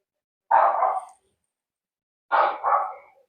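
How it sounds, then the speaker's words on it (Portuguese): A dog barks twice, each a loud gruff bark separated by almost two seconds of silence, the second one doubled into a quick pair. "E começou o cachorro."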